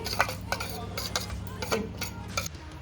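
Garam masala is stirred into paneer butter masala, with a spoon scraping and tapping the pan in a loose, repeated rhythm, close and moderately loud over a low background hum.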